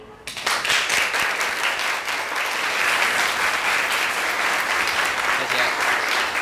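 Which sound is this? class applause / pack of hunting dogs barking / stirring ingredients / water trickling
class applause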